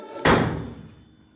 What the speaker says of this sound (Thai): เสียงชัดเลย ประตูขยับแน่นอน